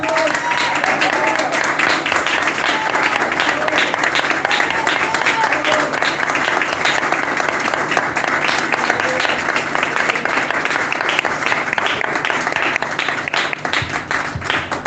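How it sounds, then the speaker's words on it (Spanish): A church congregation claps and applauds together, a dense and steady wash of clapping that keeps up for the whole span, with voices mixed in. "Dale un fuerte aplauso al Señor."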